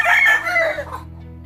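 A rooster crows loudly and close on a small farm where chickens, goats and cattle are kept, a single drawn-out call that fades into quiet background hum.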